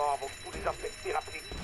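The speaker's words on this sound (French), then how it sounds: "la porte était reliée à l'alarme" An alarm goes off in the zombie survival game ZombiU after a rigged door is opened, sounding as a steady pulsing electronic ring with repeated tonal bursts at moderate level under game noise.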